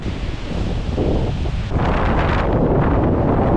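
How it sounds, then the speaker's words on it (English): Strong storm wind roars and buffets near a riverside cabin by a swollen river and waterfall, a steady broadband rush that surges louder and rougher halfway through. "Pretty windy!"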